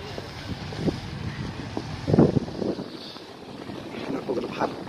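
A yacht moves on the sea off Agadir, with gusting wind buffeting the microphone and water sloshing against the hull in irregular bursts, loud and close throughout.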